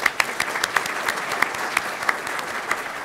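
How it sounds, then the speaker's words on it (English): An audience at a talk on city finances gives a round of applause, steady clapping with a few sharper individual claps standing out, moderately loud throughout. "Round of applause for Rachel"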